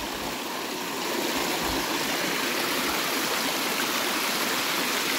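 Rainwater flows at a building site during a rainstorm, a loud and steady rushing wash like a small stream that continues without a break, with no voices.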